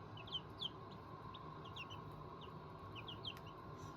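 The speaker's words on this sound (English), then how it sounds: "These little Americanas with their little bearded faces are just kind of the cutest things ever." Backyard flock of bearded Ameraucana chickens clucking softly in short scattered calls over steady garden ambience, fairly quiet and unaccompanied by talk.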